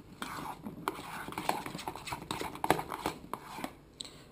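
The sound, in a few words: mixing liquid vanilla and icing sugar in a bowl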